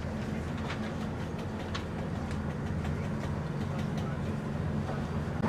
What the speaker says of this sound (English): So this is the train to Cluj.